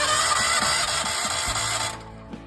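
Portable generator engine cranking on its electric starter, a rapid loud churning that stops at around two seconds, then near quiet.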